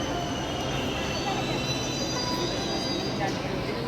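A Delhi Metro Blue Line train arriving at the station, a steady rumbling roar with faint squealing wheel tones, continuous and fairly close.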